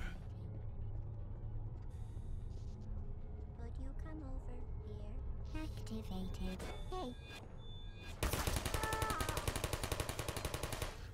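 Turret gunfire in the video game Portal, heard as a harsh, dense burst of rapid automatic fire that erupts loudly near the end, after a stretch of quieter game sounds and voices talking.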